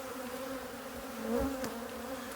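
Honeybees hum around an open hive during an inspection, a steady droning buzz with a louder bee passing close by midway, no talking.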